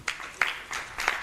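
Audience hand clapping after a panel discussion at an investment conference, four short bursts of claps within about a second, moderately loud with no talk over them.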